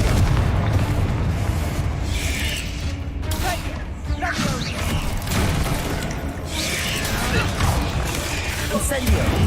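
Confringo blast spells explode with heavy booms in the video game Hogwarts Legacy, loud repeated blasts and rumbling over a dense background.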